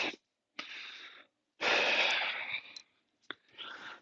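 Heavy, forceful breathing during an Indian club workout: close, loud breaths in separate bursts with short silences between, one long strained exhale in the middle.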